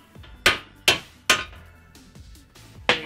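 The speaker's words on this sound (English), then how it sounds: "I didn't really want to hit it with a hammer," Hammer blows knocking a slug out of a Dana 44 axle beam during a Uniball conversion on a Ford Bronco: sharp metallic strikes, about five or six in an uneven rhythm, close and loud with ringing decay between hits.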